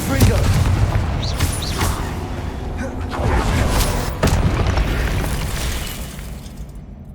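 Confringo fire spell explosions in the Hogwarts Legacy video game, a series of sharp booming blasts and crackling bursts in quick succession amid busy combat effects.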